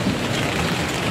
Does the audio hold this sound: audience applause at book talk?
no